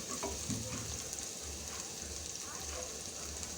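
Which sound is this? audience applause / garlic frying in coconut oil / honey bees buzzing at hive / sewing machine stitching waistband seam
garlic frying in coconut oil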